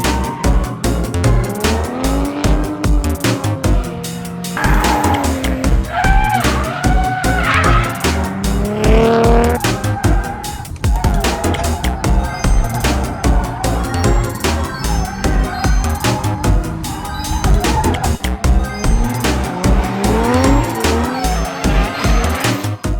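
A Nissan Skyline R34 drifting at Fuji Speedway, its loud revving engine and long sustained tire squeals rising and falling continuously and close by, with no talk.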